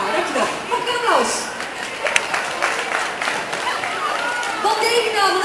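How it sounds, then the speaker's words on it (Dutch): Applause from a school audience after a chain-reaction science demonstration, a steady wash of clapping with chatter and voices mixed in, moderately loud and continuous. "Mag ik een applaus?"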